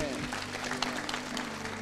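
Church congregation applauding at a fraternity gathering, a short burst of clapping that sits under a steady voice and a low sustained tone.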